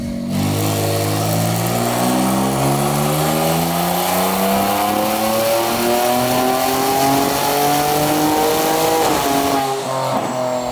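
Single-turbo Kia Stinger with a 12-pound wastegate spring revving hard on a dyno, a loud continuous engine roar climbing through rising pitch sweeps across several gear changes before dropping off near the end.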